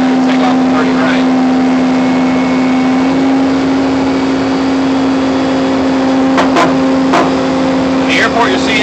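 Boeing 767-200 jet engine spooling during pushback at St. Louis Lambert International, a loud, steady tonal whine and roar held throughout, with faint voices and a few brief clicks over it.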